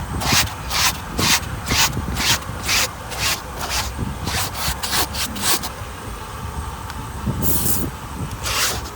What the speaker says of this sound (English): Okay, I'm gonna start scrubbing now.